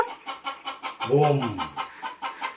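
Hens clucking in a steady series of short bursts, with one louder, drawn-out squawk in the middle; close and clear.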